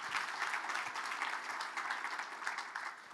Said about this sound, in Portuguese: Uma salva de palmas, João Pedro Barros.